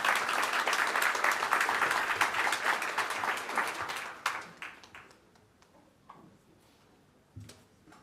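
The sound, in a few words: audience applause for a speaker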